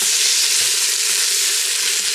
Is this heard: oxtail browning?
yes